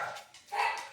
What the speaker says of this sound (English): That got them barking.